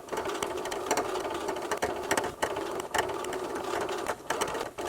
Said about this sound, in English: The next thing we need to do is sew it together.